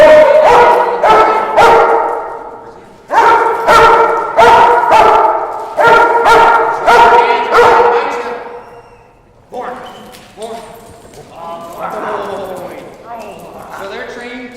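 A police K9 dog barks loudly and close in rapid bursts of several barks, pausing between volleys, followed by growling, whining vocalizations.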